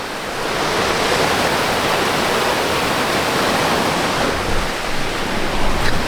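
The highest waterfall in North Bengal, reached on a hidden trek, roars in a loud, continuous broadband rush of falling water close by, with no break.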